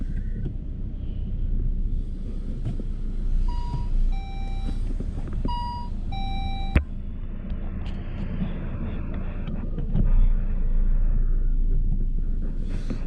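Rear parking sensor on a 2002–2005 Saab 9-5 beeping while in reverse, a series of clear, evenly spaced electronic beeps over a low idling engine rumble, with no talking.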